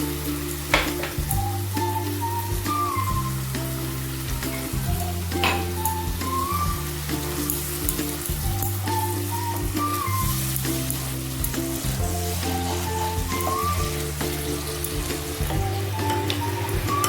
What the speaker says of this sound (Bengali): এই দইটা অ্যাড করে দিচ্ছি